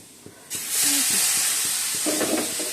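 Curry leaves, cardamom, cinnamon and cloves dropped into hot oil for tempering burst into a loud, steady sizzle that starts abruptly and keeps hissing, with a few light clinks of a utensil underneath.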